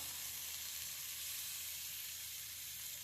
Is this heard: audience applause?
no